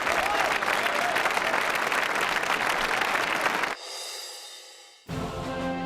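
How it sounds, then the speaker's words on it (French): An audience at a televised history tournament evening applauds a prize winner, a loud dense burst of clapping that cuts off abruptly, followed by a brief quieter tonal stretch and then sound resuming. "on va vous applaudir"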